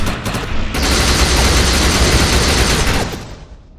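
Rapid burst of overcharged gunfire in a video game, a loud dense stream of shots that stops abruptly and then fades out into an echoing tail.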